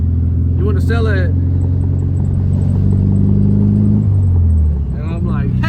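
The air-cooled engine of a 1972 Volkswagen Beetle hums steadily with a low drone while the car cruises at about 35 mph. Someone talks briefly over it at the start and again at the end.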